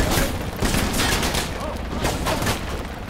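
A .50 calibre machine gun and other gunfire crackle through a Project Reality firefight at the Bellevue Hotel, with heavy repeated bursts in quick clusters, loud and close amid battle din.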